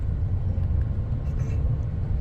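Classic cars drive along a city street near a food market in Syria, a steady low engine rumble and road noise running throughout at moderate distance, without speech.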